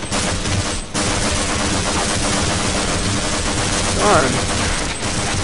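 Rapid, continuous gunfire from a weapon in Half-Life, dense automatic bursts filling the whole stretch, loud and close, with a player's brief spoken reaction mixed in.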